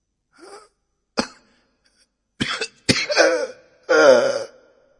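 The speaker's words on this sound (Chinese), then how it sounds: "只听到床上的这老头忽然 咳嗽了两声" An old man in a hospital bed gives a few short, hoarse coughs and throat-clearing bursts, close and isolated in silence, the last cough longer and rasping.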